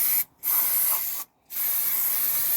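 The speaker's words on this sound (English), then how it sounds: "what we use there is a little bit of brake cleaner just to get any contamination and grease off" Two long, steady bursts of aerosol brake cleaner spray onto a Rover 75 front brake caliper, loud and close, each hiss broken by a short pause, with no talking.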